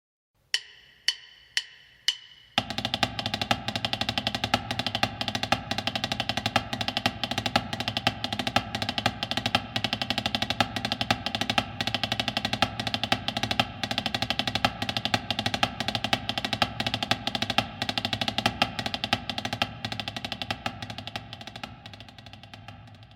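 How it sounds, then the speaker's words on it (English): A military drum beats the reveille call in a 1775 colonial Virginia camp: a few sharp isolated strokes, then a dense, rapid rolling cadence of crisp snare-like hits that carries steadily for about twenty seconds before fading slightly. "Reveille was played at dawn to wake the camp."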